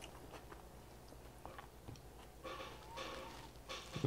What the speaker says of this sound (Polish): Słyszę, jak chrupiesz